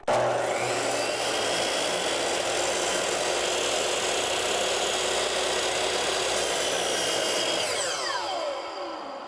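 A power saw rips through a wooden exterior kick board of door trim, a loud, steady buzzing cut running nearly the whole time before the blade spins down and fades at the end.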